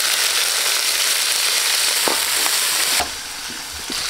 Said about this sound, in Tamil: அதுக்கடுத்து வந்து முட்டைக்கோஸ் சேர்த்துக்கலாங்க.